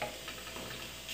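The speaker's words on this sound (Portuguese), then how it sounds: "Colocar essa água aqui, vai ser o suficiente pra cozinhar ela." Water poured into a hot pan of cooking meat gives a steady, close hiss and crackle of sizzling that holds evenly through the short moment.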